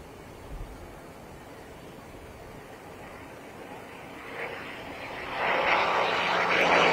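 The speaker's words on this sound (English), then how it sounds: "This is a very rare sound indeed, the P-51C Mustang from the Commemorative Air Force." A P-51C Mustang propeller fighter from the Commemorative Air Force approaches at an air show, its engine drone swelling from faint and distant to a louder roar over the last seconds, with no talk audible.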